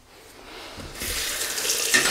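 Cold tap water runs into a sink to rinse a Gillette Heritage double-edge razor, a steady rushing stream that rises and swells after about a second and continues alone.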